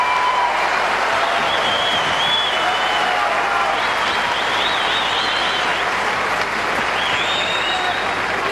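Tennis crowd at the Australian Open 2008 quarterfinal breaks into sustained, loud applause with scattered cheers and whistles, a dense steady roar filling the whole stretch.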